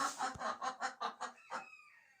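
A broody Sussex hen sitting on eggs clucks in a steady run of about seven low, throaty pulses, close by, ending in a drawn-out, rising note.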